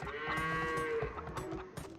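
Sheep bleat in Age of Empires 2 HD, a close, loud wavering bleat over a background of clattering game sounds, with no talk.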